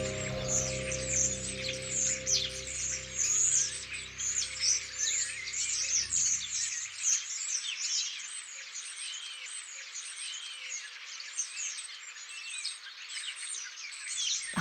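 Birds call and chirp in a spring garden, a dense, steady chorus of bright tweets, with a low rumble underneath that fades out midway.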